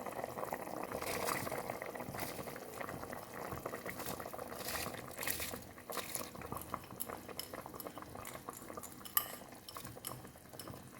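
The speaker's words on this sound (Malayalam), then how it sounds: "നന്നായിട്ട് തിളച്ച് വന്നിട്ടുണ്ട് വെള്ളം." Water for mutton yakhni pulao boils hard in a pot, a continuous bubbling, gurgling roar as rice goes in, with occasional clinks of a metal spoon against the pan, close and unbroken by speech.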